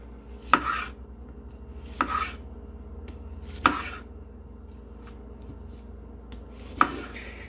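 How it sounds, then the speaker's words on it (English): An onion is chopped with a knife on a board for pico de gallo, four separate sharp chops spaced a second or more apart, each with a brief scrape, over a quiet steady room hum. "we're gonna do a really fine chop"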